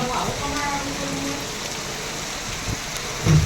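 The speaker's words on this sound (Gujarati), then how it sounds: "જો વરસાદ ચાલુ થઈ ગયો હો" Steady rain hisses across surfaces in a dense wash, with a voice briefly audible at the start.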